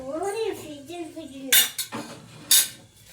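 Vegetables are turned in a pan with a metal spoon, giving a few sharp clinks and scrapes against the vessel after a stretch of quieter noise, close and fairly faint.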